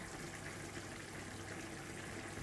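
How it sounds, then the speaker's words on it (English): A soft, continuous bubbling simmer of tuhu, an ancient Babylonian stew, low and steady, like a pot gently boiling nearby with no voices. "can you hear that stew? Tuhu bubbling away there."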